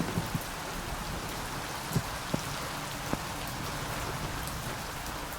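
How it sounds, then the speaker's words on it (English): Steady rain pours down in the stormy underground of the PC game Sancticide, a dense even hiss with a few sharper drops and taps standing out. "It's always raining down here."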